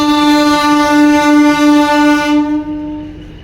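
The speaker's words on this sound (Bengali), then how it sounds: "Diesel train." A diesel train locomotive at a station near Chikkaballapur blasts a loud, sustained horn close by for a few seconds before it cuts off, leaving faint engine rumble.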